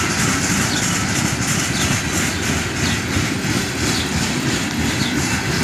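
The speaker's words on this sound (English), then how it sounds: "Here's a cut of hopper cars" A cut of hopper cars, including an old Chicago & North Western hopper, rolls steadily past close by, a continuous loud rumble and wheel clatter on the rails with no letup.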